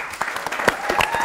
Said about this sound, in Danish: Kan vi klappe?